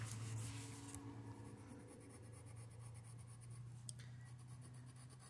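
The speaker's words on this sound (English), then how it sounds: "Now, for shading, what I'm going to do is I'm going to put some graphite." Woodless graphite pencil shading strokes on paper, a close, steady scratchy rubbing that runs continuously with a brief sharper scrape near the end.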